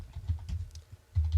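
Someone types a word on a computer keyboard in a short run of soft, uneven key clicks, close and fairly quiet, with no talking.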